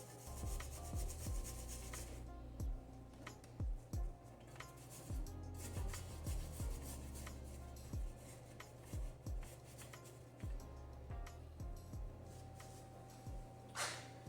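Scrubbing out the inlet passages of a 2003 Acura CL Type-S intake manifold: faint, close rubbing and scraping strokes in a quick, irregular rhythm, with light knocks scattered between them.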